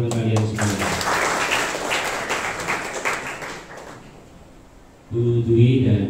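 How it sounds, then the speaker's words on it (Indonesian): Applause at an anti-corruption and anti-bullying outreach event, a crowd clapping loudly over a raised voice, thinning into scattered claps before a voice resumes speaking. "Tepuk tangan untuk kalian semua."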